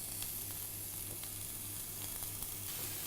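Carrot pieces sear in a thin film of oil in a hot pan, giving a steady close sizzle with occasional soft pops and crackles throughout.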